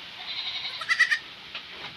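Young baby goats on a farm let out a few short, high bleats close by, one quick cluster of cries followed by a fainter call.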